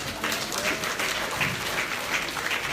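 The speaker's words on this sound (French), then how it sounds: "Applaudissez Jésus-Christ." A church congregation applauding during a sermon, dense sustained clapping from many people filling the room, loud and even throughout with a faint murmur of crowd underneath.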